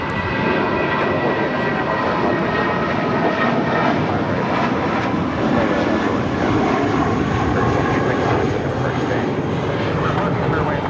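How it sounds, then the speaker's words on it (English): A yellow Spirit Airlines Airbus A320 departs on takeoff at a large airport, a loud continuous jet roar with tonal engine whine sustained close by for about eleven seconds. "Flight 186 departing to Las Vegas. That's an A320."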